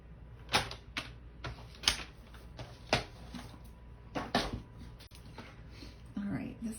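Card stock for a gift bag being cut on a paper trimmer, a series of sharp clicking, slicing strokes spaced about a second apart, close and fairly loud, with a soft rustle near the end.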